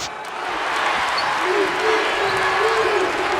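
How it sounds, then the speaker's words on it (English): A basketball arena crowd at an Elite Eight game between UConn and NC State cheers and applauds loudly and steadily. A voice rises faintly through the roar. "This entire crowd is on its feet still."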